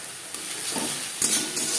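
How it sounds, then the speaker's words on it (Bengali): Onion and spices for a Pabda fish curry with vegetables are stirred and fried in a pan, a steady close sizzle with scraping stir strokes swelling in short bursts, no talking. "পেঁয়াজ ও মশলার সাথে বেশ ভালো করে মিক্স করে দেবো"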